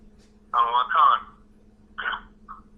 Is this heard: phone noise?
yes